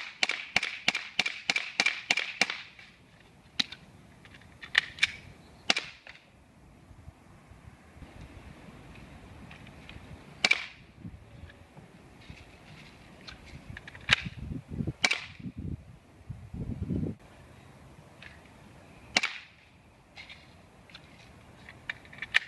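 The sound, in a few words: airsoft gas pistol firing BBs during reload drill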